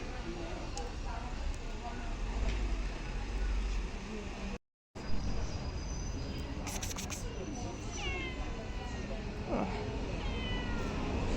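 A cat meows a few times in rising, drawn-out cries over steady outdoor background noise, with a brief silent gap partway through.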